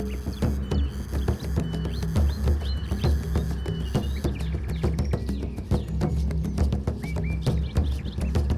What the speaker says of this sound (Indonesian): langkah kami selalu ditemani dengan suara dari tongaret dan burung hutan yang merdu